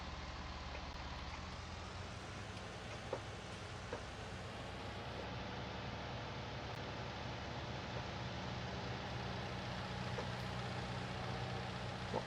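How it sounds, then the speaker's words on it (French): A farm tractor engine idles and runs steadily at a low rumble, continuous and fairly close, with a few faint clanks on top and nobody speaking. "Je vais prendre le tracteur pour vous placer"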